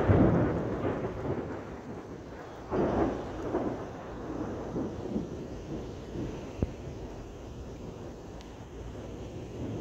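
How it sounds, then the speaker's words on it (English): Rumbling thunder rolls through an Oklahoma storm over steady rain, with several booming swells and some wind buffeting the microphone. "Storm is a brewing."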